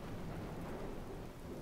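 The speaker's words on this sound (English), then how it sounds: "it's raining" Rainfall with thunder in the video game Watch Dogs: a faint, continuous rushing wash with a low rumbling undertone that holds steady through the whole moment.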